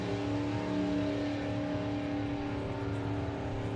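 A Volvo gasser hot rod roars steadily as it drag races at Santa Pod Raceway, with a loud, sustained engine drone and no talk.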